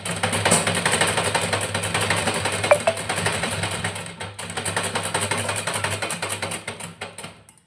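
A sewing machine stitches piping and a sleeve onto a blouse, running in a steady, continuous mechanical whir for most of the time. It pauses briefly near the middle, then resumes.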